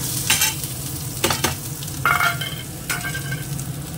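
Chopped garlic and green chilli frying in hot oil in a pan, a steady close sizzle punctuated by a few sharp spatula stirs and scrapes, with no talking.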